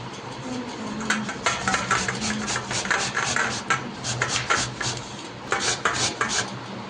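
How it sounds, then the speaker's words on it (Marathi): Pumpkin being grated by hand, a steady run of close rasping strokes with a few louder scrapes against the grater, continuous and unbroken by talk. "आता याला किसून घेऊया"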